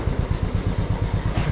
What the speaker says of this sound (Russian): Пора уже парковать байк